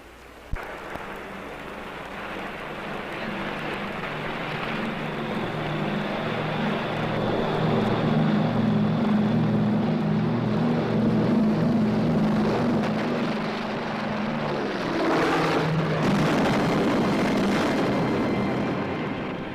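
An airplane takes off in a 1957 film soundtrack, a broad, heavy engine roar building and holding loud for about twenty seconds before shifting near the end.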